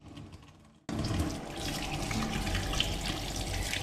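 Limpets are rinsed under a running tap, a steady broadband rush of water starting abruptly after a quiet moment and continuing loud and close.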